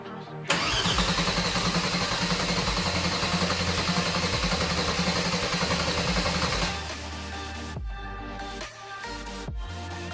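An engine-swapped Mercedes W203 fires up for the first time, roaring loudly into a steady, rough idle close by, then dropping to a lower rumble with a few knocks and clunks near the end.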